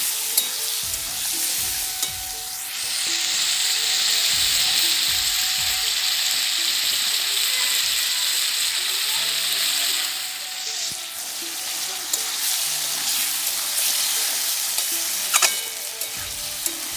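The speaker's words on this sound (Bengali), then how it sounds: "এখানে আলু মটরশুঁটি এবং সমস্ত মশলা একসাথে কষিয়ে নিচ্ছি" Potatoes, peas and spices fry in a kadai while being stirred, giving a loud, steady sizzle for about eight seconds with scraping stir strokes, then a quieter crackle and occasional clinks.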